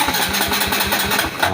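A Honda XRM125 motorcycle that gets wet, misfires and won't start is push-started, its engine chugging in a quick, loud, uneven run of pulses that never settles into an idle.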